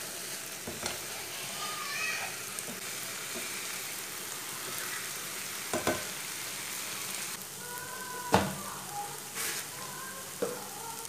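Okra frying in a pan for a village-style malai bhindi, a steady crackling sizzle with intermittent scrapes and clinks of a spoon stirring against the pan, close and continuous.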